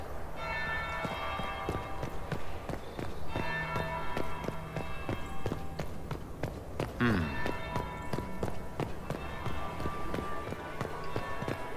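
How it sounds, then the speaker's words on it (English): Bells ring repeatedly in Dragon Age Inquisition, their tones sounding steadily alongside quick footsteps, as if a character is running over a hard floor. "Oh, did you not hear the bells ringing?"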